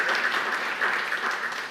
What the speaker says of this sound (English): The applause should be for you for putting up that long